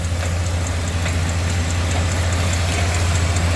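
A 2019 GMC Chevy truck engine idles steadily, a loud, even low rumble that holds constant throughout with no talking.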